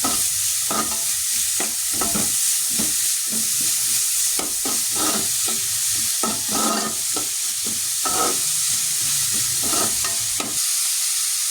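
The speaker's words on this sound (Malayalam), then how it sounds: "നമ്മുടെ ചെറുള്ളി പെട്ടെന്ന് വഴറ്റി കിട്ടാൻ വേണ്ടിയിട്ട് നമുക്ക് അര ടീസ്പൂൺ ഉപ്പിട്ട് കൊടുക്കാം" Shallots sauté with salt in a hot pan, giving a continuous loud sizzle with repeated stirring scrapes close up, no voices.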